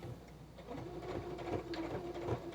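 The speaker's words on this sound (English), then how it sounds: "And I'm back stitching and going forward." A sewing machine back-stitches and sews forward along apron edges with a soft, continuous whirring hum and faint clicks. It is fairly quiet and steady throughout, and there are no voices.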